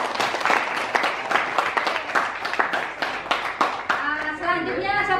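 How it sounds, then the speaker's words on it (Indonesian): Classmates in a classroom break into loud, brisk applause, a burst of many hands clapping that fades into children's voices and chatter near the end. "Beri tepuk tangan teman-teman."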